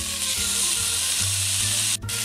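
Chicken escalopes sizzle and fry steadily in a pan over medium heat, a loud continuous crackle with a brief stir near the end, and no voices.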